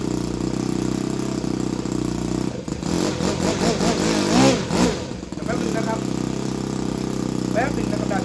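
A small engine that had been dropped in water runs at a steady idle, then revs up and down several times before settling back to idle, heard up close with someone talking over it.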